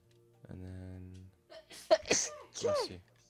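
A person sneezes once up close, a sharp loud burst after a brief inhale, preceded by a low humming tone and followed by quiet.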